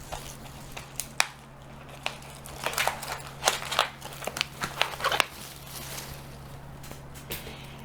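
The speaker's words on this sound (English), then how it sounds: "So let's get to separating the houseplants." Potted houseplants are pulled apart from a plastic container, with close crackling, crunching and rustling of soil, roots and plastic in irregular bursts.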